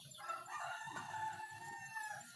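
A rooster crows faintly, fairly distant and low in level, over a busy outdoor background with other birds, and the crow lasts through most of the short stretch.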